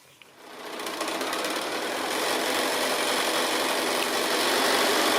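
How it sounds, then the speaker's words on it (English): A sewing machine stitching fabric pieces right sides together for a fat quarter tote bag, starting up and then running at a fast, even hum with a rapid needle rattle, close and alone with no talking. "So I'm going to sew those right sides together now"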